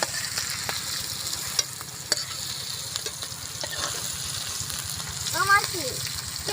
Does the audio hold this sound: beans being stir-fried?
yes